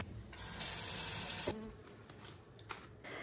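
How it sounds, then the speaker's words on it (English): Tap water runs steadily for about a second as something is rinsed at a kitchen sink during apple chip prep, a brief rushing splash that cuts off, then quiet handling noises. "Let me just give this a quick rinse though."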